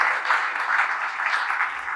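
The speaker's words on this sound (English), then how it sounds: "Great applause there." An audience applauds at a talk on women in leadership, a sustained patter of many hands clapping at moderate loudness for a couple of seconds with no clear speech.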